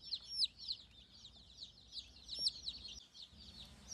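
Baby chicks of breeds such as Salmon Faverolles and Wyandotte peep at a feed store in Mounds, Oklahoma, a constant chorus of high, thin chirps, with two sharper calls standing out close by and a low room hum underneath.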